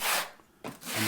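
Drywall being notched out to fit a TileRedi shower pan, harsh rasping strokes of cutting or scraping, two close bursts separated by a brief pause, with no talk.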